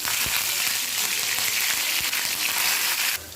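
Curry leaves hitting hot oil for a cucumber curry give a loud, crackling sizzle with sharp pops, continuous and close throughout before easing slightly at the end.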